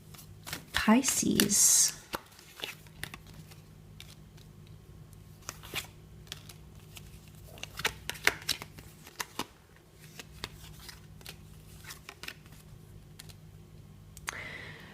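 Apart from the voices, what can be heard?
tarot cards being shuffled and laid out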